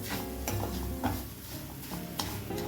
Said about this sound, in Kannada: ಸಕ್ಕರೆ ಹಾಕಿ ಈ ಥರ ಫ್ರೈ ಮಾಡ್ತಾ ಇರಬೇಕು